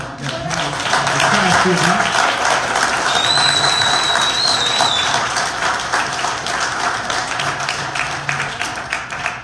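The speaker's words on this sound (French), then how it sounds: "Je pense qu'on peut déjà les, applaudir." An audience applauds the candidates after a party nomination debate in Verdun, Quebec; sustained, dense clapping from a roomful of people, steady and loud throughout with a few murmured voices underneath.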